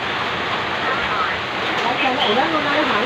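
Strong wind and rain blow across a farm field in a steady, loud roaring rush while someone talks over it.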